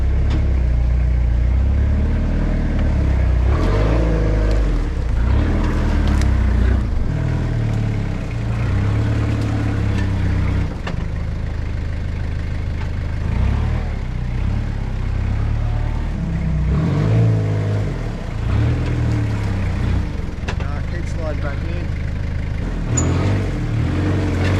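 A Toyota Hilux engine revs hard while the truck backs out of thick mud, the low engine drone rising and falling in steady surges throughout, loud and close with no voices.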